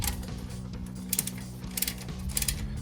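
Ratcheting wrench with a 3/4 socket tightening a bolt on a 2014-2016 Silverado 1500 upper control arm install, soft rhythmic clicks of the pawl in short bursts, faint and close, without talk.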